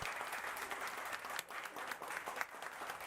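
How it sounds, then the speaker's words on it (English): Applause from an audience at an online esports invitational tournament for Genshin Impact, a steady dense wash of clapping lasting throughout at moderate, somewhat distant level. "can we have a huge round of applause for everyone who made this possible?"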